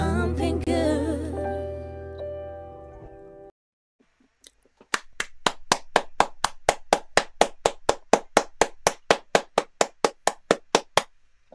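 After a few seconds of music fade out, steady rhythmic hand claps ring out at a live performance, evenly spaced and sharp, growing slightly stronger, with no talk.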